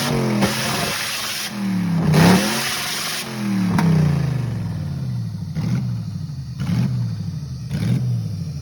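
A car engine revs hard and repeatedly to its redline, climbing in pitch toward its limit with loud roaring surges and brief drops between each burst.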